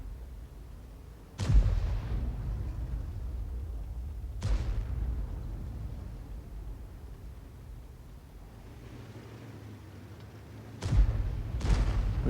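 Artillery shells fire and land in a video game. A few heavy, booming blasts are spaced several seconds apart, and a low rumbling ambience fills the gaps between them.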